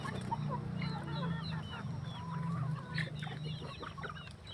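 Kampung chickens being fed, close, busy clucking and chattering from a flock over a low steady hum, with overlapping calls throughout.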